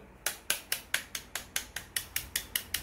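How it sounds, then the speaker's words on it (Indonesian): Rusted gears of a Japanese-made tin toy Batmobile being tapped to loosen rust: about a dozen light metallic taps in a steady, even rhythm, close up with no talking. "ketok-ketok perlahan agar karatnya yang tadi kita sudah semprot itu bisa rontok ya"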